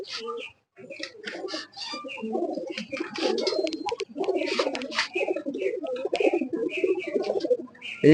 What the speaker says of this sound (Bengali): এই যে এইখানে হলো নর কবুতর গুলা না হ্যাঁ এগুলো সব ব্রিডার নর